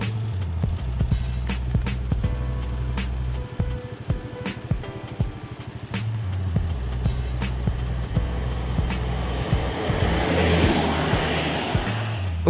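A motorcycle engine drones steadily during a ride, with rushing wind noise that builds toward the end.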